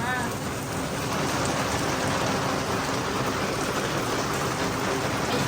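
Heavy rain falls steadily at night in a village, a dense, constant hiss and patter of drops on surfaces with no break across the whole stretch.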